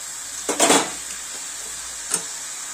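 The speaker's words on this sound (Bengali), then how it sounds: "এখানে আমি আলু আর পেঁয়াজ আর চিংড়ি মাছ একসাথে কড়াইয়ের মধ্যে দিয়ে আমি ভালো করে একটুখানি নাড়াচাড়া করে দেবো" Potatoes, onions and prawns are stirred in a kadai, two scraping clatters of the spatula against the wok standing out over a faint steady sizzle, close by and without speech.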